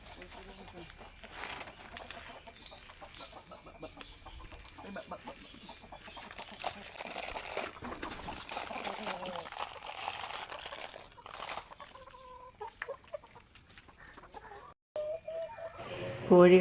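Backyard chickens clucking near a home kitchen while feeding on a moistened feed mash, soft intermittent clucks over steady background hiss, with a louder sound near the end.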